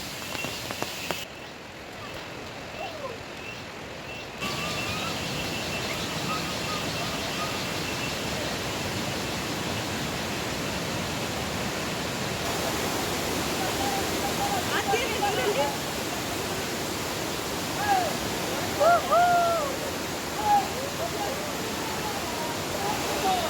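A waterfall in full monsoon flow gives a steady, dense roar of rushing and splashing water, loud and close, filling the whole stretch without a break.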